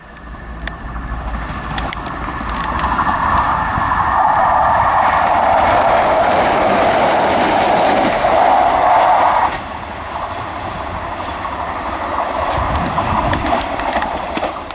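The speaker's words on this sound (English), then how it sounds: "passing through now is the final train in this video" A train from Milford Haven to Manchester Piccadilly runs through the station at Kidwelly with a loud, steady rumble and clattering wheels on the rails, building up as it passes and then fading a little toward the end.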